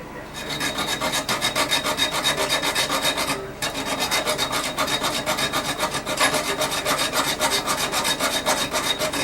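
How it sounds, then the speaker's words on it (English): A hacksaw blade rasps back and forth through a rusted toilet tank bolt just above the nut, fast regular strokes continuing close and steady with one brief pause partway through. "I'm just going to hack just above the nut and hack through and then get that bolt out of there"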